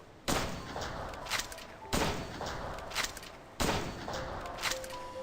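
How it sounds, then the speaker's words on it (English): Three evenly spaced rifle shots in a video game in development, each a sharp loud crack with a short rolling tail before the next, no talking. "Let's take a look at how far we can shoot the rifle."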